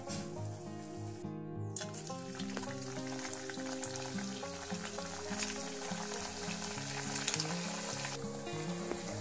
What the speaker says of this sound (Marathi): आता आपण हे काढून घेऊ आणि अशाच प्रकारे सर्व हे तळून घेऊ।